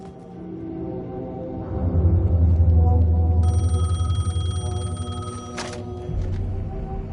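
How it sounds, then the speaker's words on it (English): A payphone rings inside the Alan Wake 2 video game, its trilling bell tones sustained over a low droning game ambience with a deep hum, fairly loud and steady, with no talk. "The payphone was ringing."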